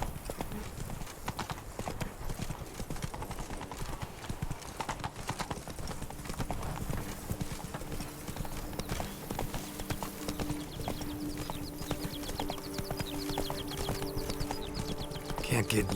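Hooves of a horse galloping in The Witcher 3: Blood and Wine, a rapid steady clip-clop running throughout under spoken dialogue and background game music.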